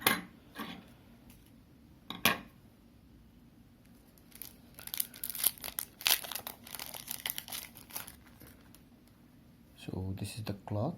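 Plastic packaging for a Samsung Galaxy Watch Active 2 44mm screen protector is cut open: scattered crinkles, rustles and snips, with a louder dense burst of crackling midway and a short noisy stretch near the end.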